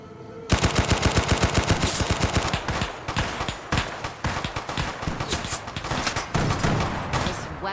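A double-barreled shotgun fires again and again in Fallout New Vegas, a fast series of loud close blasts running almost continuously, with no talking.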